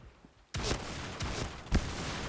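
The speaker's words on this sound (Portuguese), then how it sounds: "Essa 12 não, ela mata com 3 tiros, mano." Shotgun blasts in the video game Point Blank, three or four heavy booming shots spaced about half a second apart after a quiet start, over a constant background rumble of the game.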